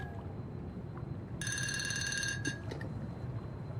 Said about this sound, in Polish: Odbierzmy telefon.